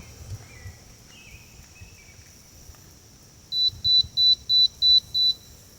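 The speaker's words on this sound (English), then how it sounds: "I hear my meter is beeping." Six short electronic beeps in a steady rhythm, clear and fairly close, following a few seconds of quiet background noise.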